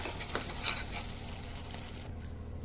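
Masala with ginger garlic paste sizzles steadily in a pan, a close, soft crackling hiss with faint stirring scrapes and no talking.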